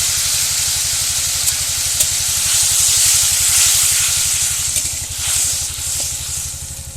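Water poured onto hot fried masala for a cabbage curry gravy gives a loud, steady hissing sizzle with a low rapid bubbling pulse underneath, swelling midway and easing toward the end.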